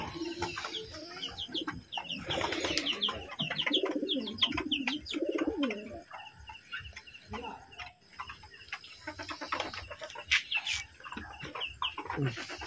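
Desi chickens cluck and call among pigeons on a rooftop poultry farm, a busy overlapping mix of clucks, coos and squawks at moderate distance, with occasional talk underneath.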